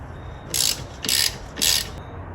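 A ratchet wrench turns a 15mm alternator bolt on a V6 Chevrolet Malibu Maxx, three quick clicking bursts at an even pace, close and loud in a quiet garage.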